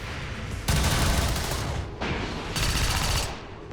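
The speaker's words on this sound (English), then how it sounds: "every time you've heard the coil cannon" A coil cannon fires in a sci-fi video game in two loud, dense bursts of rapid gunfire-like blasts, each lasting over a second, with a short gap between them.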